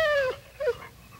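Lassie, a collie, gives a short high whimper that slides downward, then a second brief whine a moment later, both close and fairly faint with no talk.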